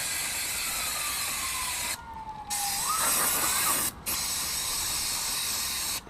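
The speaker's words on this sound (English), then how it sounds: "So, a bit of brake cleaner." Brake cleaner sprays onto Toyota Yaris brake parts in several loud hissing bursts separated by short pauses, close by with no talking.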